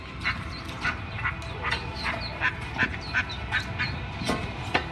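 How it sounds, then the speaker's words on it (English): A mother duck quacks beside a storm drain, letting out a steady run of short, repeated quacks over constant background noise, with no talking. "The mother duck had been spotted anxiously flapping around beside the drain."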